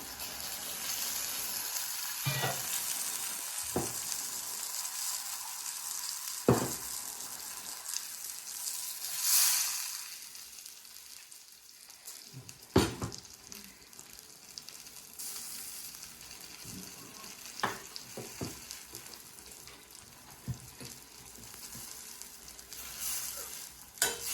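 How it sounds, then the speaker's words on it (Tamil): Ground masala is poured into brinjal frying in a pan, bringing a loud sizzle and bubbling with scattered sharp clatters of stirring and utensil knocks, easing to a quieter hiss in between. "இப்போ இதில் ஊற்றிக்கலாம் அந்த மசாலா"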